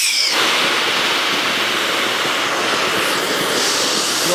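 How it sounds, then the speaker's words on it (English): CO2 gas rushes under pressure into a dry ice maker on a bottle jack, a loud, continuous hiss that starts abruptly and keeps a steady roar throughout. "And then we're gonna turn on our CO2."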